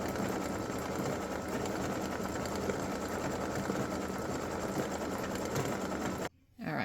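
An embroidery machine sews a satin-stitch outline on a Christmas gnome appliqué design, a steady close mechanical whir running continuously before cutting off briefly near the end.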